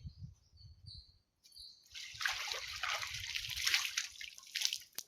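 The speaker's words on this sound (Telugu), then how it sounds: "ముందుగా మనము వాటర్ సేవించి ముఖం కడుక్కొని వెళ్ళిపోదాము" Close splashing and trickling water, as if hands scooping and splashing, following a brief quiet start with faint chirping birds.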